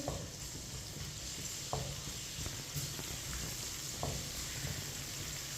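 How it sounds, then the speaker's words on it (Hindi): Crushed garlic stirs and sizzles in hot oil in a pan, a steady close frying hiss with light scrapes of a spoon now and then. "3 चम्मच ऑयल, 1 चम्मच कूटा हुआ लहसुन। लहसुन को मिक्स कर लेंगे।"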